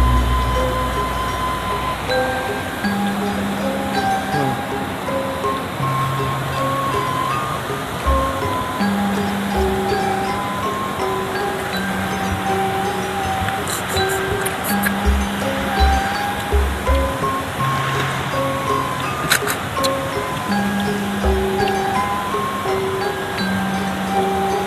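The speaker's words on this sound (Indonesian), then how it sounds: "Suasana sungai" River water rushes past in a steady, broadband wash beside an outdoor meal, continuous and fairly loud, with a few brief knocks and faint tonal sounds layered over the flow.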